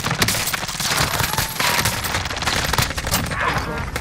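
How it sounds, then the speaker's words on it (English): Sustained automatic gunfire in a Call of Duty battle royale match, a dense unbroken stream of rapid shots filling the whole stretch at high loudness. "Round shot from behind."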